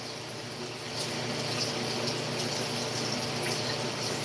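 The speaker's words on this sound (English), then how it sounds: "Now I'll wash my knife" A kitchen knife rinsed under a running tap, a steady close-up rush of flowing water that starts softly and then holds at full strength without a break.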